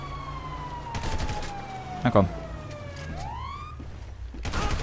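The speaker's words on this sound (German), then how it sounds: "Mit euren kleinen Sirenen da." Police sirens wail in the video game GTA V, rising and falling up close through the whole stretch, with a short sharp bang in the middle and someone talking over them.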